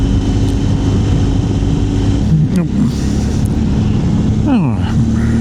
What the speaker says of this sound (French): j'aime autant le bruit de ma moto